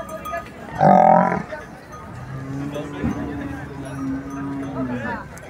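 A water buffalo gives a long, low lowing call close by, preceded by a brief louder call and with faint background voices.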